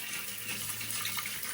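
Cold tap water runs in a steady hissing stream over prickly pears set to soak, a close, continuous gush with no voices.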